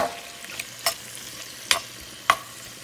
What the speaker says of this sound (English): So now I'm going to pour in the chopped pork loins so they can saute.